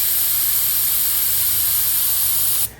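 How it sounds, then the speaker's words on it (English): An airbrush sprays paint onto a motorcycle side cover in a steady, close, even hiss that holds for nearly three seconds and then cuts off abruptly. "and just open the airbrush up till I get that circular effect"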